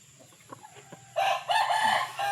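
A sparsely feathered fighting rooster crows loudly and close by at a cockfighting arena, a long strained call breaking in after a stretch of quieter clucking and background noise.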